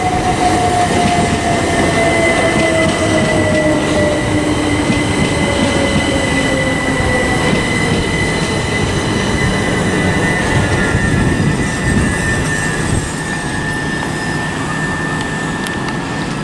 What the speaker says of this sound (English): arriving now is a terminating southern service from Brighton